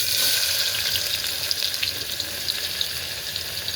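Chopped onion and chili sizzle steadily in hot oil in a pan for a Marathi spiced rice dish, making a continuous hiss and crackle with no talk.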